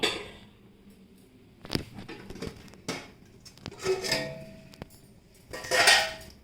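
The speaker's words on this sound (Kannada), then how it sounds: "ಇದು ಬೇಯಕ್ಕೆ ಓಪನ್ ಮಾಡ್ತಾ ಇದ್ದೀನಿ" A pressure cooker is opened and a covering plate lifted off a pot, giving scattered metallic clinks and clatters with quiet gaps between, close and fairly loud, no talk.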